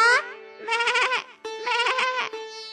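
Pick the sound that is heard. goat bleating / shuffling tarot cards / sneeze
goat bleating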